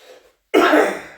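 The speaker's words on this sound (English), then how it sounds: "sorry about the coughing, mate" A man lets out a single loud, close cough after a brief faint murmur and a short pause.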